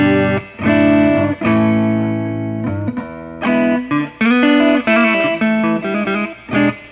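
An electric guitar plays a clean tone with a slight edge of grit through a spring reverb, picking out a bluesy line of sustained notes and short phrases, loud and close with reverb tails between notes.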